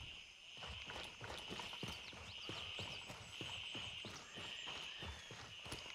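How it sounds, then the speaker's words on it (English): Horse hooves clip-clop in the video game Gray Zone Warfare, a quick, even run of sharp, close hoofbeats over a steady high hiss. "Horsey."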